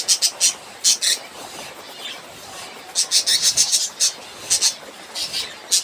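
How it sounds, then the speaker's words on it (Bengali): A pair of budgerigars in a cage chirps in short bright bursts, clustered and intermittent, fairly close over a quiet background. "এখানে দেখুন একজোড়া পাখি আছে"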